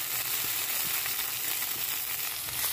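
Tomato and cauliflower paste frying in a pan, a steady dense sizzle that fills the whole stretch at an even level, close and continuous with no voices.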